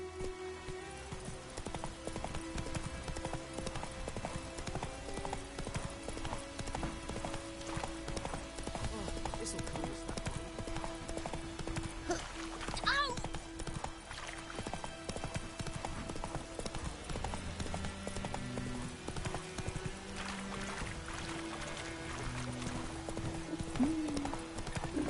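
Horse hooves clip-clop steadily while riding in The Witcher 3, a continuous rhythmic trot under game music and ambience, with an occasional whinny and brief spoken lines.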